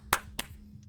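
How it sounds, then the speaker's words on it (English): Two quick hand claps from Vampire Therapist, sharp and close, a short beat apart, followed by a faint tiny click, with no voices. "Claps."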